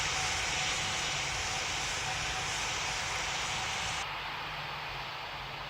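An airliner takes off in Pilot Training Flight Simulator, with a steady, broad engine roar and hiss that holds constant and eases slightly near the end.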